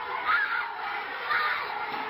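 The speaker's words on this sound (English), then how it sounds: "Students shared this video with us of the crowd of students rushing down the hallway to the main office that day." A crowd of students rushes down a school hallway, their shouting and yelling a dense, loud, continuous roar with a couple of swells.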